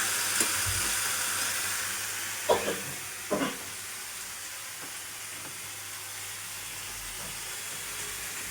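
Curry sizzling and frying in a pan, a steady soft hiss with a few brief clinks or stirring knocks, fairly quiet and with no talking.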